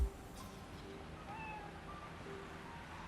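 A cat meows in the Spider-Man Miles Morales video game, giving a few faint, drawn-out mews over steady game background ambience.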